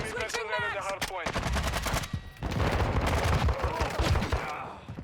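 Rapid gunfire crackles during a Modern Warfare 2 video game match, a steady, loud stream of automatic shots close up. It follows a short burst of a voice at the start.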